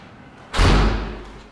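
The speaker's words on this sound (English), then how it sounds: "That was the wind, shut the door for me." A house door slammed shut by the wind in a living room, a single loud close thud with a short booming decay, no voices.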